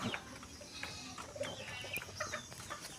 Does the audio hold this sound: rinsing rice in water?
no